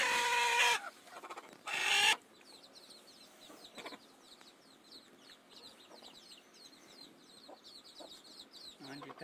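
Native desi hens on a farm clucking in short, soft bursts, faint and spread across the scene, with a couple of loud rustling thumps near the start.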